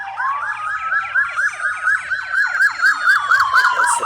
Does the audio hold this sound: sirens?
yes